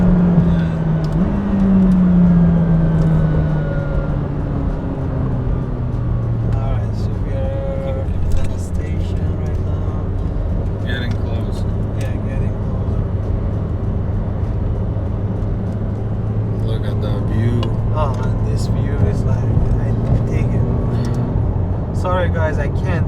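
A McLaren 720S with the 710 hp Performance Package revs hard at high RPM, its engine note rising and holding as a loud, sustained drone with gear-shift dips, while a voice talks over it.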